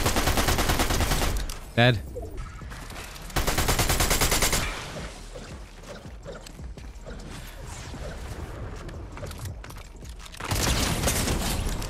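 Rapid automatic gunfire from a powerful gun in a competitive battle royale video game, loud bursts at the start and end with quieter shots between, under a voice speaking briefly.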